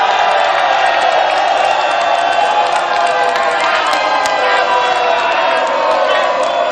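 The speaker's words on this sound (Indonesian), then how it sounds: "Saya ingin minta suara yang paling meriah dari para pendukung pasangan calon nomor 1 dan juga 2" Debate audience supporters cheering and shouting loudly in a convention center hall, a dense sustained roar of voices with scattered whistles filling the whole stretch.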